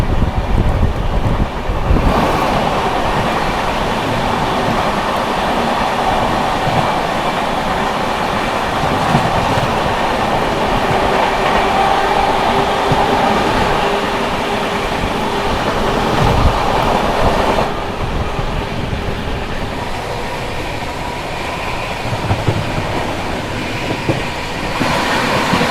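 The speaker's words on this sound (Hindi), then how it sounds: "अब आ रही है बिहार संपर्क क्रांति, तो अब उसके साथ आप लोगों को क्रॉसिंग दिखाते हैं। दरभंगा नई दिल्ली बिहार संपर्क क्रांति एक्सप्रेस।" The Darbhanga–New Delhi Bihar Sampark Kranti Express rolls past at a crossing, a loud, steady rumble of carriages with clattering wheels and wind rush lasting throughout, no voices.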